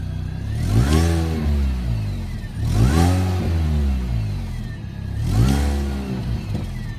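A Mini Cooper R53 John Cooper Works engine is revved three times in sharp bursts, each swelling then falling away, loud and close with no voices.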